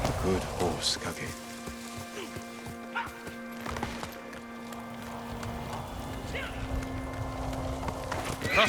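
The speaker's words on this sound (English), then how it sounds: "Good horse, Kage." Rhythmic hoofbeats of a horse galloping at a steady pace in the video game Ghost of Tsushima, clopping under a sustained musical drone, with brief voices and a whinny-like cry.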